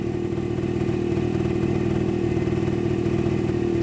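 Loud, close, steady idle from a TGB Bullet scooter engine with an electric choke, running at a constant hum as the revs settle slowly downward.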